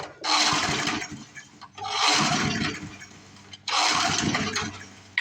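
Murray lawn mower engine being cranked for a start: three long, loud bursts of rough engine noise, each a second or more, separated by short pauses, with no steady idle following.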